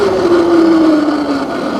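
An Anyland Rev Pro auto-wheelie dirt bike rides off road through the woods. Its motor gives a loud, sustained whine that slowly drops in pitch over a couple of seconds.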